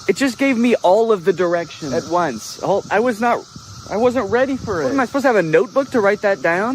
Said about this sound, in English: it's cicada season. It's the year of the cicada and they're everywhere